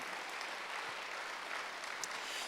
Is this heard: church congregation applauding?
yes